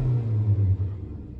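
Low, throaty rumble of a Zastava Yugo 55A small petrol car engine idling from inside the cabin, steady with slight pulsing and fading a little toward the end; no voices.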